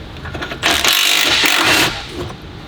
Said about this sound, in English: I'll just put an impact on it with an extension.